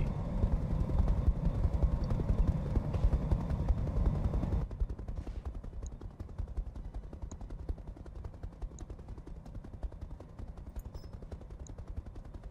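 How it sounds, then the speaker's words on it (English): A mech in the Roguetech BattleTech game unloads incendiary weapons, a loud, rapid rattle of automatic fire that runs heavy for several seconds, then thins into a lighter stream of repeated shots and crackles. "we are firing incendiaries at this Vulcan"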